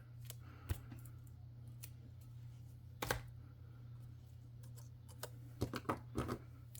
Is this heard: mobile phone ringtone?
no